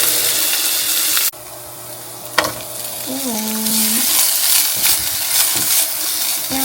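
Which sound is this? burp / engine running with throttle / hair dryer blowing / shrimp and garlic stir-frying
shrimp and garlic stir-frying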